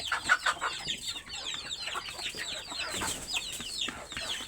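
Native deshi chicks and hens cluck and peep steadily at close range, a busy, overlapping flock chatter with no voices over it.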